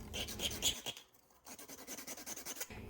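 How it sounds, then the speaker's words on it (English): A cinnamon stick is grated over a hot matcha latte in soft, close, scratchy strokes, with a brief pause midway before the rapid rasping resumes. "I'm just grating a cinnamon stick here to add a little decoration"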